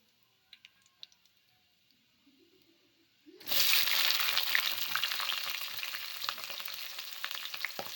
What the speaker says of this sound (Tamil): பச்சை மிளகா, வெங்காயம் எல்லாத்தையும் போட்டு நல்லா வதக்கிடலாம்.